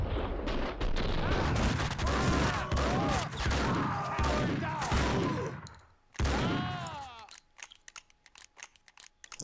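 Gunfire in Max Payne 2 rattles off in dense, loud close-range bursts. Gruff in-game voices shout over it, then a few scattered single shots follow.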